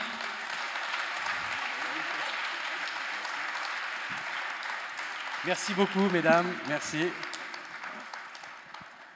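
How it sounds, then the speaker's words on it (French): A room full of people applauding steadily, with a man briefly thanking the audience over the clapping partway through. "On les applaudit."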